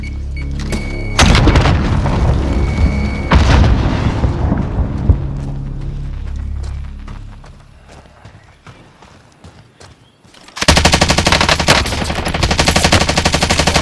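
A frag grenade goes off in a battle royale video game, a loud booming blast amid rapid bursts of gunfire, with a dense barrage of shots returning near the end.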